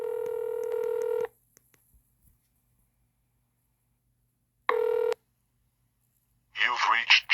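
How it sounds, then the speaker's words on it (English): Phone dial pad tones while a number is entered: a bright sustained tone, a long silence, a second short tone, then a voice begins speaking. "We're going to use the dial pad. We're going to put in the number"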